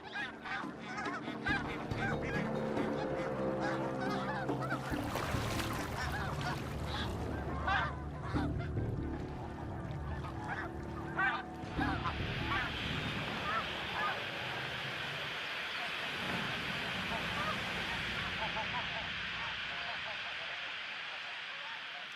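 A goose with an injured wing honks repeatedly in a wild wetland setting, loud calls close by over a wind and water background, while a narrator talks over it.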